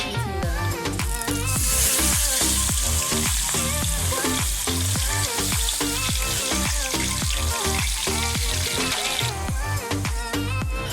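Loud, continuous sizzling and crackling of chicken frying with whole spices in a hot pan, with occasional stirring and clinking, close up.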